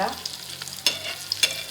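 Fasting patties fry on a hot griddle with a soft, steady sizzle and a few sharp scraping ticks as they are stirred or nudged, close and fairly quiet.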